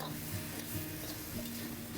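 Broth is poured into a hot wok of stir-fried winter melon for an eight-treasure winter melon soup, giving a continuous bubbling sizzle with no talk.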